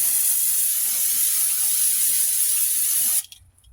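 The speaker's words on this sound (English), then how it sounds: "I'm going to go ahead and spray the outside surface too." Aerosol brake cleaner sprayed onto the outside surface of a front brake caliper on a 2008 Nissan Altima, one continuous loud close hiss that cuts off sharply near the end.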